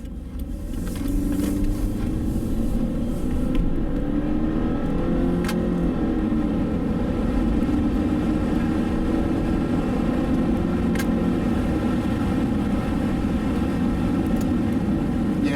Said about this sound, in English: there is a decent amount of road noise in here